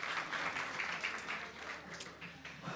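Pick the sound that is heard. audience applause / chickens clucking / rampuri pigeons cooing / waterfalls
audience applause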